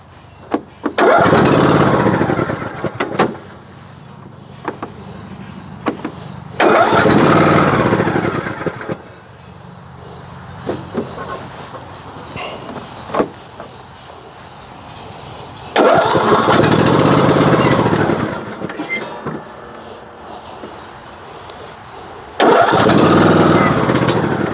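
The engine of a newly acquired shop machine, started with the key left on, roars loudly and close in four separate bursts. Each burst runs for a few seconds, with quieter gaps of idle-level noise and handling between them.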